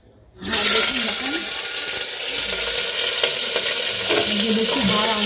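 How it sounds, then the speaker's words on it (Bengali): Whole garam masala and two bay leaves dropped into hot oil for tempering burst into a loud, steady sizzle that starts abruptly and crackles on continuously up close, with a voice speaking faintly in the background. "একটু দিয়ে দেবো গরম মশলা ফোড়ন। আর দেবো দুটো তেজপাতা ফোড়ন।"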